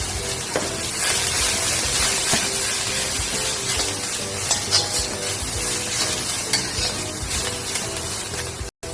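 Coriander, cumin and turmeric powders sizzle and fry in a pan, a steady broadband crackle with stirring scrapes throughout, close and fairly loud, with no voices.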